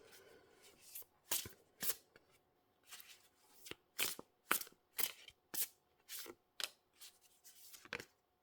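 A tarot deck being shuffled by hand, about a dozen crisp riffling bursts in an uneven rhythm, close and clear with short pauses between, no talking.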